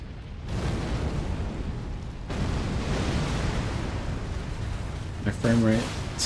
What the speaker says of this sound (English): I didn't get hit by that explosion.